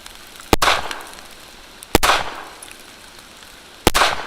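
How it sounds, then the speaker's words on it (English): Three sharp rifle gunshots ring out about one to two seconds apart during a zero check of a red dot sight, each a loud crack followed by a brief ringing decay. "Let's take one more shot to check our zero."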